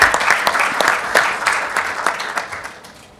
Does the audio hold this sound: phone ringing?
no